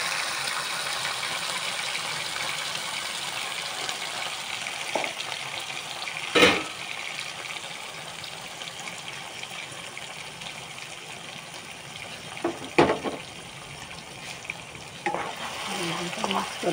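Tomato and masala paste fries and is stirred in a pan, a steady close sizzle running throughout with a few sharper scraping stir sounds, no talking.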